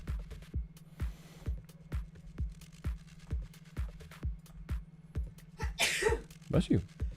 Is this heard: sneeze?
yes